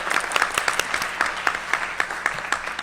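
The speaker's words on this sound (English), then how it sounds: "Let's give them all a great round of applause" Audience applause at a city council meeting, a steady patter of many hands clapping at moderate volume with no voices over it.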